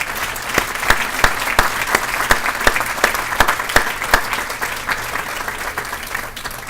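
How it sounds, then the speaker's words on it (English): An audience at a business recognition awards event applauds, a dense wash of many hands with a few louder individual claps standing out in an irregular rhythm, sustained and fairly loud throughout. "Huge round of applause for them, by the way."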